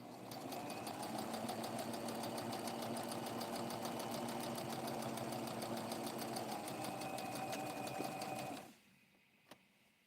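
A sewing machine runs steadily at a fast, even stitching hum while sewing a small blue sparkle Barbie doll dress, then stops abruptly near the end, leaving near silence with one faint click.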